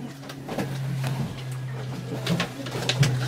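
Domestic pigeons cooing in a loft, with soft low coos repeating close by among faint shuffling and clicks and no speech.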